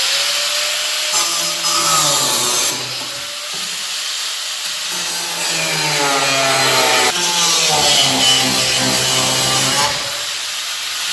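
Blower bolts on the firewall of a 1980 Plymouth Volare being cut off, a loud continuous grinding, rasping cut running the whole time with slight pitch wobbles as the tool bites, close and without pause.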